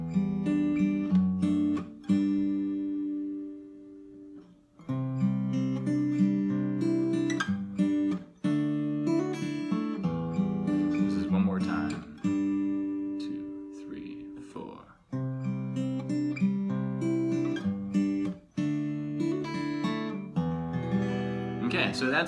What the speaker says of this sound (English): So straight up, the full version looks and sounds like this